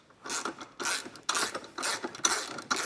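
A ratchet snugging down bolts on a Towsmart Class III trailer hitch being fitted to a 2021 Hyundai, with repeated bursts of close, quick clicking strokes separated by brief pauses.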